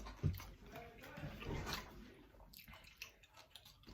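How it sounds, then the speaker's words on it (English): Coconut water is dumped out, a brief splashing pour followed by faint trickling and dripping, quiet and close. "I'm just gonna dump my coconut water out."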